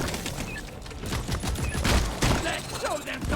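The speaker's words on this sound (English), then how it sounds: "I can also shoot my turret and make it do extra damage" A turret rattles off rapid bursts of gunfire in Deep Rock Galactic amid the chaos of combat, dense and loud, with other weapon noises and effects layered in.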